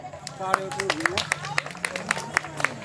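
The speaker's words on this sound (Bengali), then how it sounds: "একটা জোরে হাত তালি।" An audience at a school Teachers' Day event breaks into a round of hand clapping for recent tournament participants: quick, dense, uneven claps at moderate level, with voices talking over them throughout.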